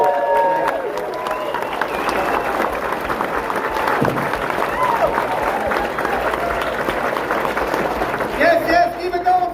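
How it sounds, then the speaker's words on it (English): Comedy club audience applauding at a live stand-up show, a dense sustained wash of clapping with some cheering, while a comedian speaks over it on the microphone. "Give Brian a big round of applause."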